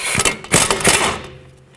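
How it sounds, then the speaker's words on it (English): A ratchet with an 18mm socket works the lower strut nut on the front strut of a 2007-2009 Saturn Aura, giving quick bursts of close, rapid clicking that trail off into quiet. "Now I can get to this bolt down here, or the nut I should say, with an 18mm socket."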